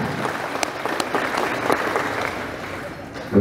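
Audience applause for Kiai Nanang at an Islamic talk, a steady dense clapping that fills the whole stretch at moderate loudness, with a brief voice entering at the very end.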